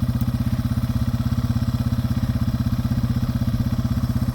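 A Yamaha TW200 converted to a three-wheeler rides through mud, its single-cylinder engine close by with a steady, even low thumping pulse at constant speed and no voices.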